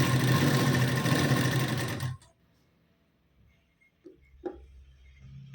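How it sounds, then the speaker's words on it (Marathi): A sewing machine runs steadily and loud for about two seconds, double-stitching a katori blouse where the sleeve joins the front, then stops abruptly, followed by a couple of small handling clicks. "इकडनं पुन्हा एकदा डबल शिलाई देऊन घ्यायची"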